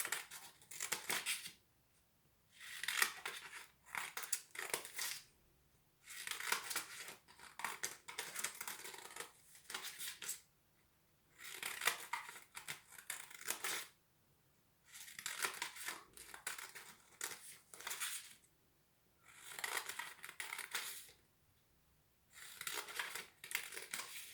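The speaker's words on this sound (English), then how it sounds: "from this way up we'll kind of cut along the lines" Scissors snip and crinkle through paper while cutting along lines for an Easter basket, coming in regular bursts of close, crisp cutting separated by short pauses.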